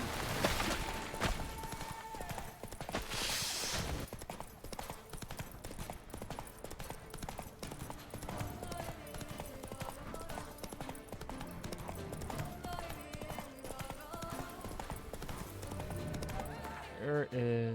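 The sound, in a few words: horse galloping in video game The Witcher 3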